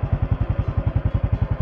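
Motorcycle engine running steadily with a fast, even pulsing thump, close and fairly loud with no talk.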